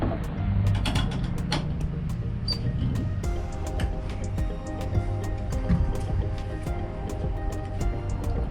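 A clamp on a Leer Latitude soft tri-fold tonneau cover on a 2018 Toyota Tundra Limited is tightened with a ratcheting tool, producing steady rapid clicking close by over a continuous low mechanical hum.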